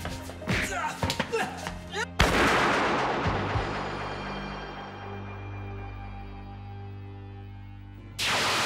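A single loud gunshot in a TV drama cracks sharply and rings out in a long reverberant decay, following a few quieter thumps and knocks.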